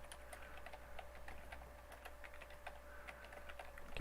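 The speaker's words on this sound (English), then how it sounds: "Get really good at typing wireframe." Rapid, irregular clicks from someone typing on a computer keyboard during a programming session, quiet and close, over a faint steady hum.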